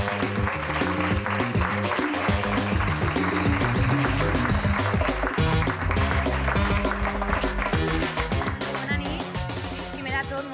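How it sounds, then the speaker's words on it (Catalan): Audience applause and cheering for a contestant at a stand-up comedy monologue contest, dense and sustained throughout, fading slightly toward the end. "Us demano un fort aplaudiment per la Débora Sele!"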